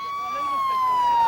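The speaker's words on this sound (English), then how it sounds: "Ambulances squeezed through crowds," An ambulance siren pushing through crowds sounds as a loud, steady wailing tone that slides slowly downward, heard close and on its own for a brief moment.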